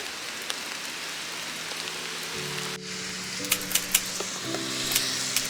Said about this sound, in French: Il pleut fort